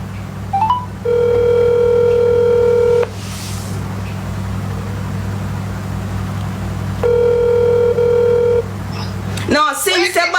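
Phone-line tones after a caller hangs up on a prank call: a brief rising trill, then two long steady beeps separated by several seconds, over a constant low hum, with a burst of speech at the end.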